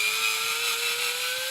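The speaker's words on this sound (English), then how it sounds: "because I'm pushing against the pull of the drill" A power drill enlarging a hole runs in a steady, continuous high whine with no breaks, close and loud and with no one talking.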